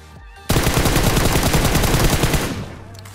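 Automatic gunfire in the PUBG Mobile battle-royale game bursts in loud and close after a brief quiet moment, a dense rapid rattle of shots that holds for about two seconds before tapering off.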